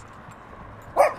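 A dog gives a single short, sharp bark at the very end, close by, after a moment of low background quiet.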